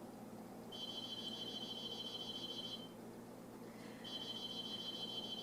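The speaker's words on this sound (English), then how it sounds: "This is the third time the mail alarm has gone off." Two bursts of a shrill electronic beeping mailbox alarm, the first about two seconds long, the second starting after a short pause, over a steady low hum.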